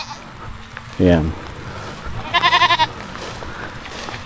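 Goats on a farm bleat twice: a loud, near, low bleat, then a higher, quavering bleat a moment later, with a brief word of talk and rural background noise between them.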